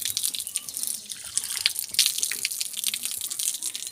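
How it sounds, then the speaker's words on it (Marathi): Water running from a tap at full flow near a water tank at a school, a steady bright rush with dripping and splashing for a few seconds, no voices. "हे बघा फुल स्पीडमधनं पाणी येतं"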